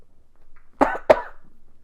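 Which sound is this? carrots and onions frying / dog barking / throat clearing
throat clearing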